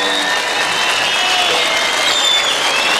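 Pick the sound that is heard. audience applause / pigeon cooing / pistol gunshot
audience applause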